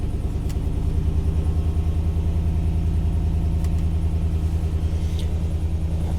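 A 2019 Chevrolet C7 Corvette with custom exhaust starts and settles into a deep, throbbing idle with a rumbling exhaust note, steady and close, with a couple of faint clicks over it.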